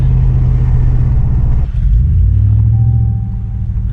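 A Charger 397 launches hard from a standstill, its engine a loud, close, steady rumble from inside the car that holds briefly, then shifts and keeps pulling.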